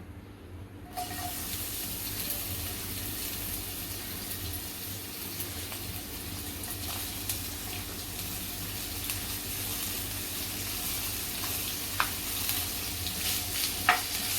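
Chopped onion sizzling in a small spoonful of oil in a pan, a steady low hiss throughout with a few faint clicks and scrapes, no voices.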